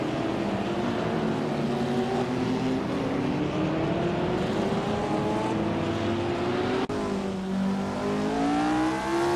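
Several racing cars in a game race roar together in a steady, dense engine drone, pitches sliding up and down as drivers jostle and try to overtake; continuous and loud, with no talking.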